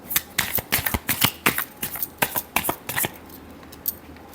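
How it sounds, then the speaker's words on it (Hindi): Tarot cards being shuffled by hand, a rapid run of crisp riffling bursts and flicks for about three seconds, close and clear, then a quieter pause with one last soft flick; no talking. "last shuffle"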